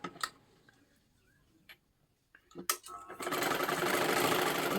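A sewing machine stitches silky fabric near the neckline, starting with faint ticks and brief movements before a loud, steady whirring run in the final stretch.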